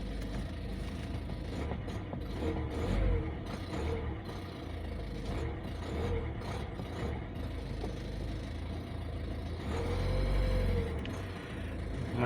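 A cold 2012 Ford Focus 1.6 TDCi diesel engine, running after a fuel filter change, is held at raised revs, with a low, rumbling drone that swells in two pronounced surges under steady mechanical noise.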